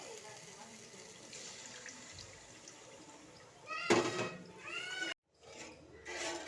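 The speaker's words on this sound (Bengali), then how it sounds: "এবার আমি জল দিয়ে দিচ্ছি।" Water splashes into a hot pan of spice paste for a posto katla fish curry, a short loud gush and sizzle after quiet kitchen background, with a brief gap and more pouring noise at the end.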